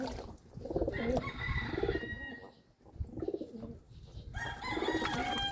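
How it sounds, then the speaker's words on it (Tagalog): Pigeons coo repeatedly at close range while bathing, their soft throaty calls coming in overlapping bursts with faint splashing and a few higher chirps in between. "maligo na mga kalapatids"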